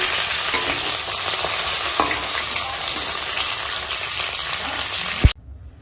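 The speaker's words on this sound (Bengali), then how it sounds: "দেখো পেঁয়াজ কুচোটা তেলের ওপর দিয়ে দিলাম" Oil sizzles and crackles steadily as chopped onions fry, with a few soft stirring scrapes, then the sizzle abruptly drops away near the end.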